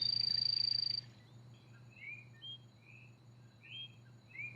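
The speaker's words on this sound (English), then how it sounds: "This higher pitched whistle is the Barbados whistling frog." A Barbados whistling frog gives a sustained high-pitched whistle for about a second, followed by scattered short, faint chirps over a steady low hum.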